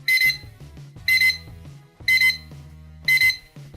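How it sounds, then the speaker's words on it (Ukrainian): A Chinese wooden alarm clock, model CJ5518, rings in four evenly spaced bursts of bright electronic beeping, about one per second, close and fairly loud. "Будильник звучить ось так."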